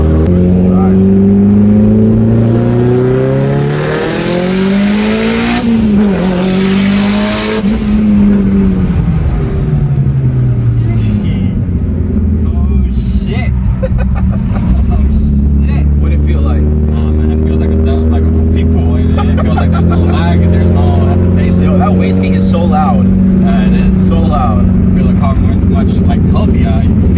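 A Mitsubishi Evo 9 with an upgraded turbo and flex-fuel tune revs hard and loud, rising and falling, then settles into a strong idle-like drone, with people talking over the engine near the end.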